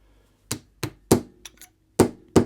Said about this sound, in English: Okay, go ahead. Hammer that in.